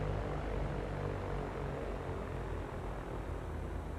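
A Cessna 172 propeller engine runs close and loud, a steady, unbroken droning rumble with no pauses.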